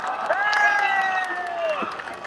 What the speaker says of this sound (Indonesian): Tepuk tangan tuh Raji.